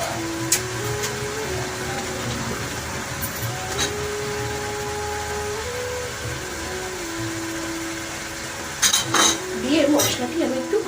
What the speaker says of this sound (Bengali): মশলাটি আমি একটু ভালোভাবে কষিয়ে নেব